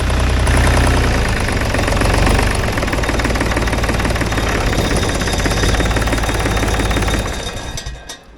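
A cheap asphalt paver's engine runs loud and close with a rough, knocking, rapid chugging rhythm, holding steady before dying away near the end.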